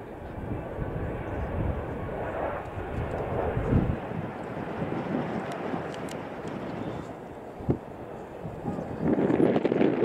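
A Boeing 757 airliner roars steadily through a broad, rumbling wash of engine noise with wind buffeting as it lands too fast with flaps stuck, a brief thump near the end as the sound swells.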